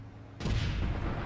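Gunfire from enemy players in the online shooter APB Reloaded bursts in suddenly after a quiet moment and carries on as a dense, rumbling wash of shots and noise.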